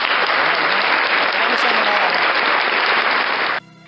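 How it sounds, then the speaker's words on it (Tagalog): A canned applause effect fired from a V8 sound card: dense, loud, uniform clapping and crowd noise holds steady for over three seconds, then cuts off abruptly, leaving quiet background hiss. "Tapos pag yun, palakpak!"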